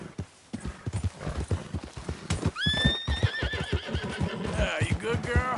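A horse clip-clops steadily under a rider, close and rhythmic, with a loud whinny breaking in partway and a person urging it on in speech throughout.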